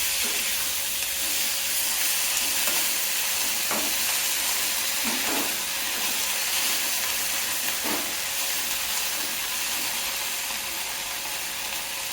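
Ingredients for a Tamil thuvaiyal-style chutney sauté in a pan, giving a steady close hiss and sizzle with occasional faint crackles and clicks throughout, no voices.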